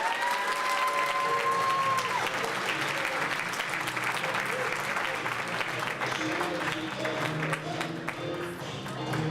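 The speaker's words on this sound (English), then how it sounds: "let's have a big round of applause for Nate Kaplan" A crowd at an annual dinner applauds Nate Kaplan, sustained dense clapping throughout with a few voices calling out over it.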